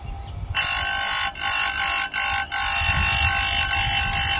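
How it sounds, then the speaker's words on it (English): A chainsaw sharpening grinder grinding a chain tooth: a motor spins up to a loud, steady high whine, with several short dips as the wheel meets the tooth, then holds. No one speaks. "So we'll turn the grinder on, and we'll grind that tooth."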